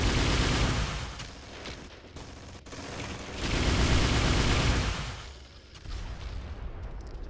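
Sustained gunfire in the video game Red Faction 2, a dense, rattling stream of shots and mechanical clatter that swells and eases in waves across the span, loud and close with almost no talk.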